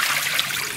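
Water runs steadily from a newly installed kitchen faucet, a close, continuous trickling splash with no voices.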